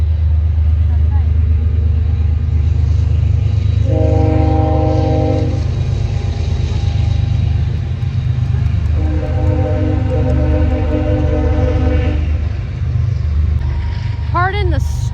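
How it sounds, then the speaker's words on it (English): A train rumbles loudly past at close range, with a continuous heavy roar and several horn blasts sounding partway through and near the end. "Pardon the stupid train"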